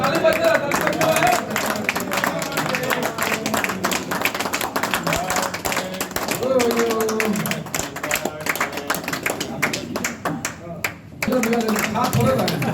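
People at a party office birthday celebration clap their hands, close and uneven, mixed with crowd chatter and voices talking over the clapping throughout.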